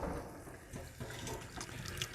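Water runs from a tap into a shop wash sink, a steady soft splashing stream heard alone at low level.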